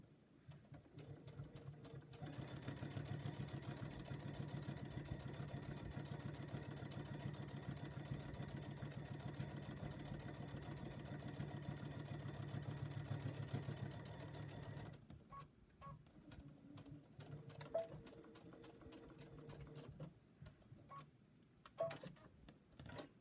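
A sewing machine runs steadily stitching a seam on a fat-quarter drawstring bag, a close, continuous mechanical whir for about twelve seconds, followed by short bursts and ticks of slower back-stitching.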